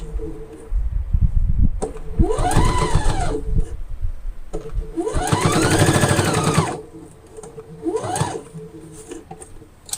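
A sewing machine stitches in bursts, running fast, pausing and reversing to back tack, with a steady motor whine and rapid needle chatter in three distinct runs, loud and close.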